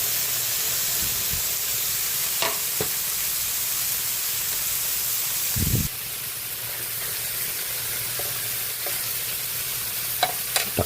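Bottle gourd (upo) sizzles and fries in a hot pan with pork and pepper, a steady close hiss throughout, with a brief thump and a few small clinks of stirring.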